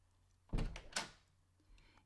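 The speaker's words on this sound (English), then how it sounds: "let me get the door" A door being opened indoors: a solid thunk, a quick clatter of the latch and a second knock-like bang, followed by a faint later bump.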